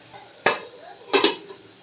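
Beef liver tossed with browned onions in a pan gives two sharp bursts of utensil scraping and metal clatter, close and fairly loud, separated by a quiet stretch.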